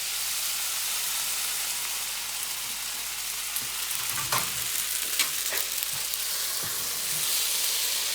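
Steady broadband sizzle of drained pasta frying in olive oil in a hot pan, with a few louder crackles and pops partway through; no voices.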